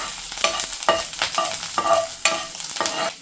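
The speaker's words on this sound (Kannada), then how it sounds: "ಈಗ ಶುಂಠಿ ಹಾಕೊಳ್ಳೋಣ. ಚೆನ್ನಾಗಿ ಫ್ರೈ ಮಾಡ್ಕೊಳ್ಳೋಣ" Ginger frying in about two spoons of hot oil, sizzling steadily while being stirred, with repeated scraping strokes of a spoon against the pan every half second or so, close and fairly loud, no talking.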